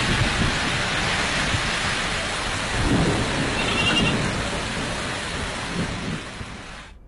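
Heavy rain from Cyclone Mora pours down over Bangladesh in a dense, unbroken hiss of steady downpour, loud and constant with a faint swell partway through and no voices.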